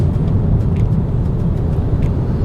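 Car engine and road noise from inside a vehicle pulling away in traffic, a loud, steady rumble with no voices.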